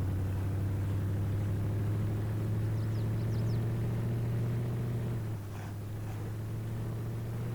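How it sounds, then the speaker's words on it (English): A vehicle engine in Farming Simulator 22 drones steadily at a raised pitch, then drops to a lower idle partway through, a constant mechanical hum with no talking. "Rev that engine up."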